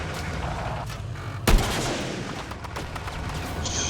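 Video game gunfire with one sharp, loud shot standing out in the middle against a background of scattered distant shots and rumbling battle noise.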